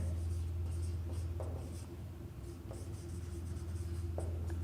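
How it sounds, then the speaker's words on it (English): Writing during a mathematics lecture on ring ideals, with soft, continuous scratchy strokes and a few sharper taps over a steady low room hum. "let me write one thing"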